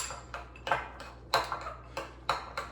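A spoon stirring raw, unsalted pecans into a serving of oats in a pot on the stove, with about eight clinking scrapes against the pot in a steady rhythm, close and clear.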